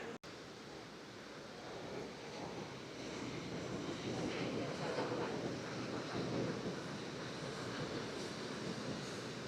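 Broad, steady wash of surf rolling in at Bondi Beach in Sydney, a continuous hiss that swells slightly louder midway, with wind noise on the microphone and no talking.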